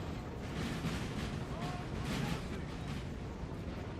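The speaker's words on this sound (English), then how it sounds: "I already hear some firing up in the front." Battlefield ambience from Napoleonic Total War 3, with a steady rumbling wash and scattered faint cracks of distant musket fire from the front line, continuous and moderately loud throughout.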